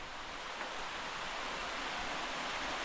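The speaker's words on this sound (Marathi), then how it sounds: "पावसाला सुरुवात झालेली आहे पाऊस काय पाठ सोडत नाही" Steady rain falls continuously with a dense, even hiss throughout, loud and close, with no voices.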